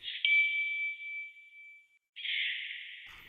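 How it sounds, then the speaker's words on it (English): Rhythmic synth texture effects: a bright, narrow ringing tone held for about two seconds, a brief gap, then another bright burst that slowly fades, alone with no voices. "I also added these other texture kind of effects that sound like this."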